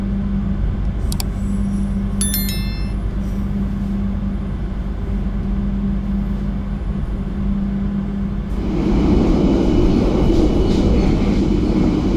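The Madiun Jaya passenger train rolls steadily along the rails after departing Madiun station, with a continuous low rumble, brief high squeals early on, and the noise swelling louder near the end.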